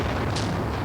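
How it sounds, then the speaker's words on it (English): A coalition bomb explodes in Baghdad at night, striking at or near the Iraqi Information Ministry. It comes through as a short, steady, low rumble with no voices over it. "A coalition bomb struck at or near the Iraqi Information Ministry."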